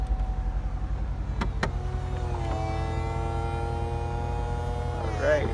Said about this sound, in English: let me start the car up, and we are going to pull the top back up